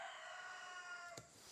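A rooster crows faintly from a distance in an outdoor yard, one drawn-out call with a soft click near the end.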